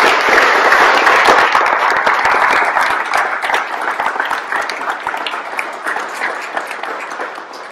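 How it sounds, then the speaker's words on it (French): Audience applause for bakers at a gathering in Morbihan, a dense burst of clapping that starts strong and slowly thins out over several seconds. "On va les applaudir quand même."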